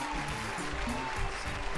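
A studio audience claps in a steady, dense wash of applause that holds at an even level for under two seconds, with faint tonal sound beneath it.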